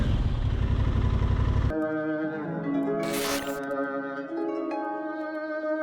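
A 2022 Aprilia RS660 motorcycle with 100 horsepower is ridden, its engine giving a loud, dense roar for under two seconds before music takes over.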